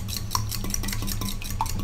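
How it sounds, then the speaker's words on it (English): A fork whisks eggs in a bowl in a home kitchen, giving soft, steady scraping and light clinks of metal against the dish, close and quiet with no talking. "And take a fork. And you can just whisk those eggs."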